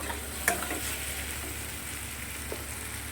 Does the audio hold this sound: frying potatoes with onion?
yes